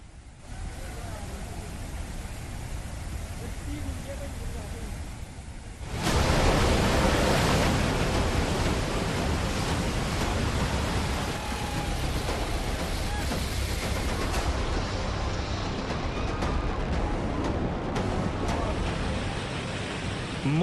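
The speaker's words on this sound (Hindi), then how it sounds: "सिर्फ लहरों की गर्जना सुनाई पड़ रही है" The flooding Beas River roars through Manali in a dense, continuous rush of churning water that swells suddenly louder partway through and stays heavy to the end.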